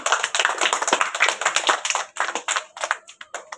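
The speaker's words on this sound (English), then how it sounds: "Clap your hand all." Children at a school Teachers' Day prize announcement applaud, a dense burst of many small hands clapping close by that sustains, then thins into scattered claps toward the end.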